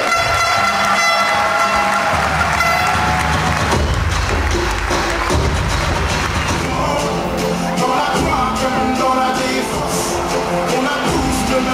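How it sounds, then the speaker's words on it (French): Sustained, loud crowd applause fills a packed sports awards evening at a sports hall in Dreux, France, with clapping running continuously throughout amid hall reverberation and some horn-like blasts. "applaudissements pour Sorbin Gallet."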